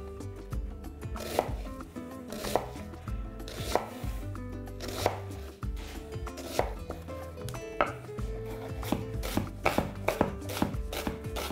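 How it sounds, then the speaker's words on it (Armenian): Two medium onions being chopped finely with a knife on a cutting board, a steady series of sharp, close knife strikes with uneven rhythm and no talking, for stuffed peppers with bulgur and vegetables. "Կտրատում ենք մանր"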